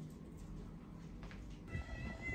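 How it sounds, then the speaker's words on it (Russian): Cats meow faintly at a table outside a room at a Turkish seaside resort in Alaçatı, a brief call heard over steady outdoor background noise. "здесь уже понабежали кошки"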